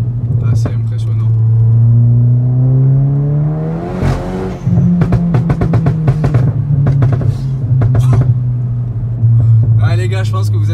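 A Volkswagen Polo R WRC with a 400 hp Stage 2+ tune drones loud and close, its engine climbing to a sharp rev, then settling into a steady pitch broken by crackling bursts and further throttle blips.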